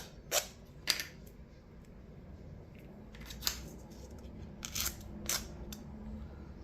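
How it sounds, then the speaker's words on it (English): A nail file is drawn in a few short, gentle strokes along the sides of a nail strip, giving crisp scratchy rasps spaced irregularly, close-up and quiet, with no talking. "take the nail file and go on each side in the front. And you only need a few gentle strokes"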